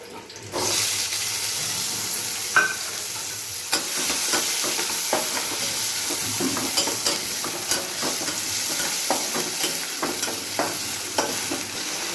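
Onion and green chillies sizzling in oil in a steel pan, a loud continuous fry with scattered crackles and occasional clinks of stirring, no one talking.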